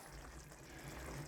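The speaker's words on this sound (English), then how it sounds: "and a splash of red wine." A splash of red wine is poured into a pot of tomato ragu for spaghetti, a faint, brief steady trickle with low background rumble.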